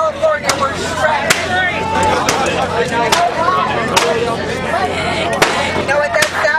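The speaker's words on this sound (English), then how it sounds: "That is a veteran banging his sign on their wall." A protest sign banged against a wall by a veteran outside the 2016 Democratic National Convention, sharp repeated cracks at irregular intervals over a noisy crowd with speech throughout.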